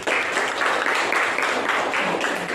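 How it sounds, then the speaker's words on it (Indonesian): Applause from an audience at a classroom-style training session in Gorontalo, a steady, dense clapping that fills the whole stretch at close range, with no voices over it. "Kita beri aplaus lagi"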